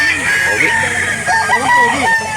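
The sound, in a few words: rooster crowing at a chicken market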